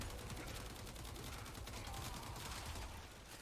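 The Stahlta weapon firing in the video game Warframe, a dense, continuous burst of rapid shots with a mechanical edge, loud and unbroken throughout.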